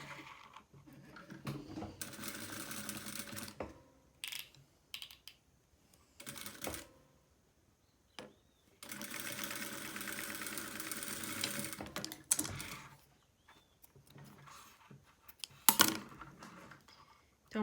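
Sewing machine stitching the two ends of a fabric strap closed, right sides together, for a toiletry bag, running in several sustained bursts of whirring with short pauses and clicks between.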